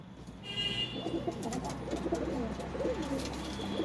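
Pigeons in a pigeon house coo in soft, repeated, throaty phrases. Several birds overlap close by, over a low background hum.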